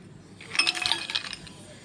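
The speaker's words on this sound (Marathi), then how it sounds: "नंतर बर्फ टाकायचं." Ice cubes drop into a glass of kokum sherbet, a quick cluster of bright clinks and rattles over about a second, close and fairly loud, with no talking.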